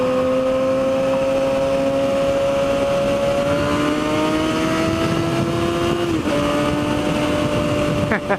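A car accelerates hard alongside a motorcycle on the road, its engine note climbing in long steady sweeps over continuous wind and road roar, with a brief dip near the end before the tone rises again.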